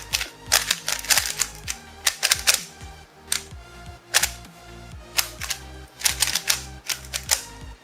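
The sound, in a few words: Qiyi speed cube being turned, scratchy clicking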